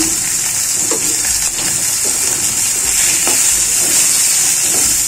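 Garlic frying in oil in a home kitchen, a steady loud hiss and sizzle with faint clatter throughout, no voices.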